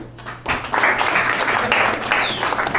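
Comedy club audience at the Laugh Factory breaking into applause during a stand-up set, clapping rising after a brief quieter start and holding fairly loud with scattered louder claps.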